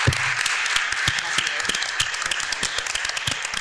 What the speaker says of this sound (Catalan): per acabar aquesta taula rodona, el primer de tot, des de logo, el aplaudiment a Esther, a Andrea, a Pepe, a Vicent i a Luc